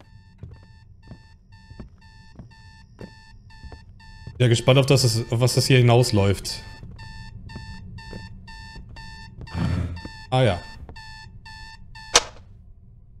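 Alarm clock in a horror video game rings in steady repeating electronic beeps throughout, with someone talking over part of it and a few short thumps and clicks near the end.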